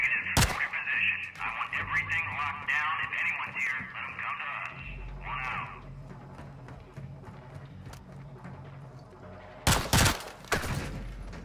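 Gunfire in the Call of Duty: Modern Warfare II campaign: a sharp, loud burst near the start and another cluster of shots near the end, with radio-filtered voices talking in between.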